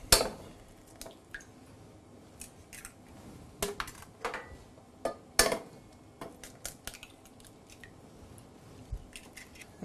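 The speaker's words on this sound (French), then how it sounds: "Ensuite, on vient casser les œufs." Eggs are cracked for a quinoa flake omelette, producing a series of sharp, close clicks and taps against a bowl, followed by a few wet squelches amid quiet kitchen handling.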